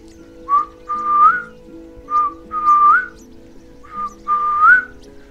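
A person whistles in imitation of an African wild animal's haunting evening call, three repeated phrases, each a short note followed by a longer rising one, clear and close over a low steady background hum.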